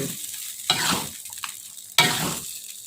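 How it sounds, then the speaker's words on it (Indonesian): Fried eggs in sweet and sour sauce sizzle and crackle in a pan, with two sharp bursts of frying as they are stirred, close up. "Lalu kita masukkan ini telur yang kita ceplok tadi."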